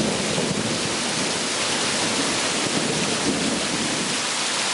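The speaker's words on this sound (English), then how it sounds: "we're in the middle of a deluge here. Lightning striking, rain coming down, intense." Heavy rain pours down during a night thunderstorm at a hilltop basecamp, a loud, dense, unbroken roar of water drumming steadily throughout with no voices.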